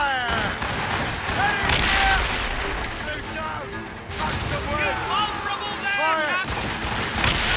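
Cannon volleys boom from sailing ships during a naval battle in Assassin's Creed Rogue, with repeated heavy blasts and rumbling fire mixed with shouting voices and tonal game sounds throughout.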